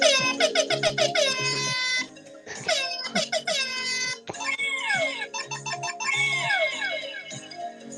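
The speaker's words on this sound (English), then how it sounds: "Should we have a little air horn?" Soundboard air-horn effect with rapid stuttering blasts, then longer wailing horn tones with falling pitch bends, loud and continuous over a low backing hum.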